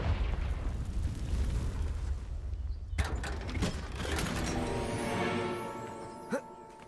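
A Confringo blasting spell in the video game Hogwarts Legacy goes off with a sharp burst about halfway through, then a crackling, rumbling blast that fades slowly. A faint pop follows near the end.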